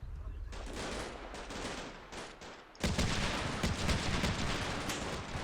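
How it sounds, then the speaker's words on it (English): Bradley 25mm cannon fire in Combat Mission Shock Force 2, pounding a building as dense, continuous automatic bursts that swell louder midway, with battlefield gunfire layered throughout. "that's that Bradley there, putting 25mm cannon fire into the building"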